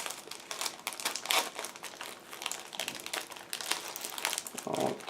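Plastic packaging for a 1/24 scale Aoshima Lamborghini Huracan model kit, holding a large black plastic frame and wheels, being opened with continuous close crinkling and crumpling in dense uneven bursts, no talking.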